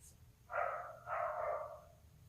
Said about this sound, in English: my neighbors let their dogs out.